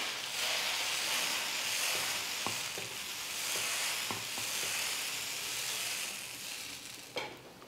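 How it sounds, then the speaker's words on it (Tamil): Dosa batter sizzles steadily on a hot griddle, a loud continuous frying hiss punctuated by scattered light ladle taps and clicks, with a sharper knock near the end. "கல் நல்லா சூடேறினதுக்கப்புறமா ஒரு கரண்டி தோசை மாவு வந்து கல்லில் சேர்த்துக்கலாம்"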